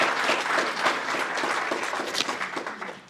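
Audience applause at an Alberta NDP candidate nomination event fills the room, a dense, steady wash of many hands clapping close by that eases slightly toward the end.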